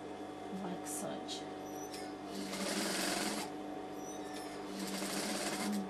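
A sewing machine stitches bias-cut piping onto a dress neckline in a steady continuous whir, pausing briefly and then running again, close and fairly quiet.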